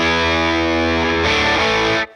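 An electric guitar chord rings through a Xotic SL Drive overdrive pedal, thick and distorted, sustaining loudly for about two seconds before being cut off abruptly.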